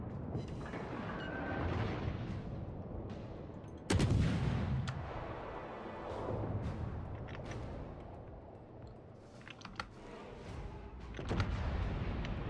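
Naval artillery fire in the World of Warships game: a sharp loud blast near four seconds, then scattered booms and distant shell impacts over a steady rumbling game ambience, with another burst toward the end.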